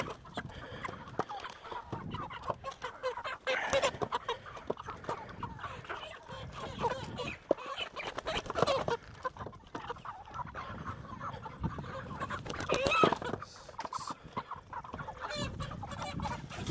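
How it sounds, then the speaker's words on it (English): Chickens clucking inside a hoop structure housing poultry, with scattered squawks and fluttering bursts amid handling noise and occasional talk. "Oh, chickens."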